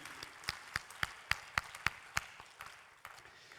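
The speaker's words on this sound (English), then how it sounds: "can I get a round of applause for our luminaries" A panel discussion audience gives a round of applause for the panelists, sparse and fairly faint, with distinct individual claps in an uneven rhythm that thins out toward the end.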